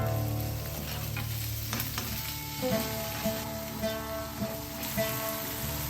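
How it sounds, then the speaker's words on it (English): Onion, tomato and cashews sautéing in leftover chicken-frying oil in a pan, a steady close sizzle with a few soft stirring clinks and scrapes, no talking. "To the same oil, saute onion,"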